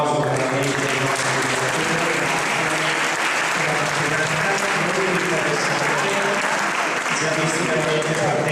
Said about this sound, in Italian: Facciamo un altro applauso veramente ai nostri